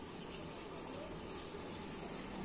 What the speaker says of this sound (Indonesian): Kita taruh minyak.